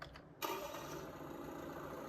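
A Ford Mustang engine with a stock exhaust starts up in the Farming Simulator video game, cranking briefly and then catching into a steady, moderately loud idle.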